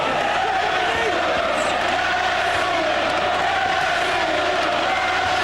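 A boxing crowd roars and cheers without a break at a Naseem Hamed fight against Paul Ingle. The dense, loud crowd noise fills the arena, with a commentator's voice running over it.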